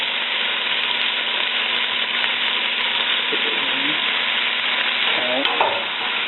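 Food frying in butter in a pan while being stirred, giving a steady close sizzle with scraping stir sounds throughout and a few louder clinks near the end.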